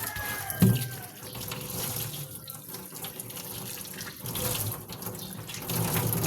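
Water running from a tap into a basin, a steady moderate splashing stream with a small knock near the start and slight swells in flow, no talking.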